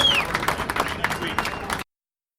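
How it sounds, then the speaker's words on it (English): An audience claps on the SEMA 2019 show stage: a short, dense burst of applause lasting under two seconds, fairly close and steady, that then cuts off abruptly. "Round of applause for Ant."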